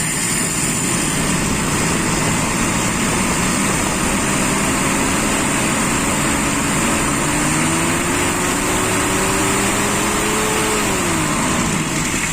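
A motorcycle engine during carburetor idle-jet tuning, with an uneven idle and a hesitant pull. Its revs climb steadily for several seconds, hold high, then drop away over a constant mechanical roar, with no talking.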